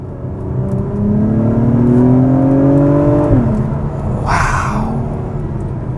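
A 2021 Acura TLX Type S engine revving hard under fast acceleration, climbing in pitch before a quick drop at the gearshift, then pulling again, loud and close from inside the car with a brief whoosh of air.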